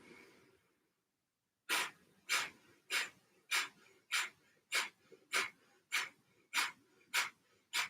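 Rhythmic breathing during a yoga breathing exercise: after a brief pause, eleven evenly spaced, sharp, close nasal breaths follow one another, loud and alone.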